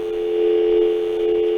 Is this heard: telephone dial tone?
yes